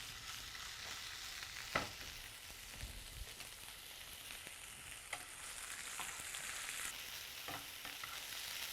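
Chicken pieces frying in hot oil for Bulgarian kaverma: a steady broadband sizzle runs throughout at moderate level, broken by a few sharper clinks and stirring knocks, with no talking.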